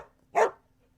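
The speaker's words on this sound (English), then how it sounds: "That's the sound of a dog barking." One sharp, close dog bark rings out alone against near silence.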